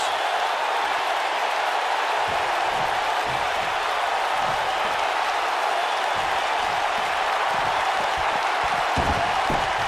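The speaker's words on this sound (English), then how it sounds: "Another electric crowd on hand here for SmackDown, as has been the norm over the years." A packed arena crowd in the WWE 2K19 video game roars and applauds steadily at a SmackDown event, a continuous distant wash of cheering with no break.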